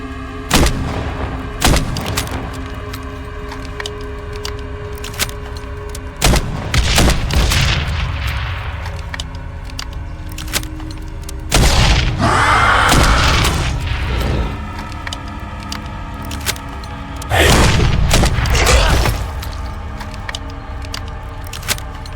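Loud gunshots and booming blasts burst out in a jungle firefight in the video game Arma 3, scattered single cracks and heavier rolling explosions over a rumbling background, with no talking.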